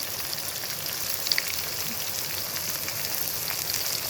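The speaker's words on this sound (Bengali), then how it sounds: "এবারে আমাদের পেঁয়াজটাকে খুব ভালো করে ব্রাউন কালার করে কিন্তু ভেজে নিতে হবে।" Chopped onions fry in oil with whole garam masala for a dhaba-style spinach chicken curry, a soft continuous hiss and crackle with a couple of small pops, heard alone without talking.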